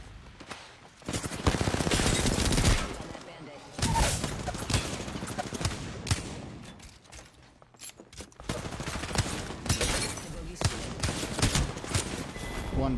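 Dense automatic gunfire and repeated bursts ring out during a firefight in the video game Apex Legends. The shots are loud and nearly continuous, with brief lulls between volleys.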